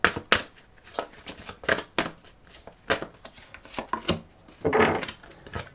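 Tarot cards drawn from a deck and laid out, giving close, distinct slaps and slides against a surface at an irregular pace, with a longer rustle near the end.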